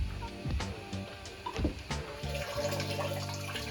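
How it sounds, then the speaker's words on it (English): A small pump in a 3D-printed hydroponic system, with a filter running, pushes water up through a pipe. It makes a faint, steady trickling flow broken by soft clicks and splashes, and no one speaks. "I've got the filter going and pumping out a good amount of water"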